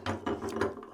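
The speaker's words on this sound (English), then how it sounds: "this will act as like a little wrench to finish it up" A 3D-printed ratcheting wrench clicks rapidly and closely through about a second of continuous pawl ratcheting, with a few louder click bursts.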